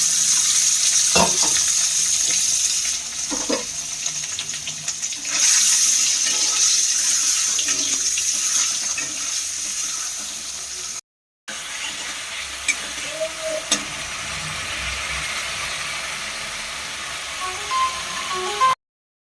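Food frying in a pan, a bright steady sizzle with occasional pops and clatter, broken by a brief silent cut midway before the sizzling resumes.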